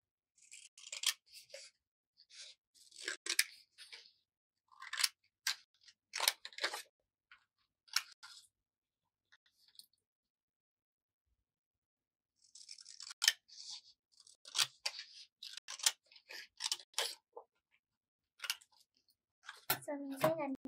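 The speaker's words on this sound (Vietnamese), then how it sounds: "cắt cho mình một cái đường thẳng" Scissors snip paper for a handmade paper wind chime, a string of short, crisp cuts in quick clusters, close and quiet, with a silent gap midway.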